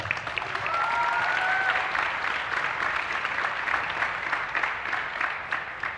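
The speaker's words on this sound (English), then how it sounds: "Let's give him a big round of applause." Enthusiastic applause from a live podcast audience fills the room, many hands clapping steadily, with a few brief whistles early on.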